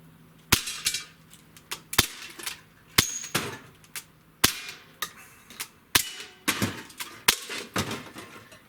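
Comrade AK air rifle firing at targets, about fifteen sharp snapping shots in a steady series, each a crisp close crack with brief impact ring, spaced roughly half a second apart.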